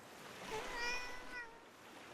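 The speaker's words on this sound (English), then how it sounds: "More cats." Cats meow softly in a harbor town in Dragon Quest 7, a few faint mewing calls in the middle of quiet background ambience.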